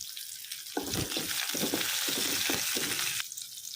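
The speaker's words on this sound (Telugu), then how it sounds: "సో లైట్గా సాటే చేసేసుకుందాము" Light sautéing of a tadka seasoning of chopped onion, green chillies and coriander in a pan, a steady close sizzle with bursts of stirring and clatter in the middle, quieter frying at the start and end, no talk.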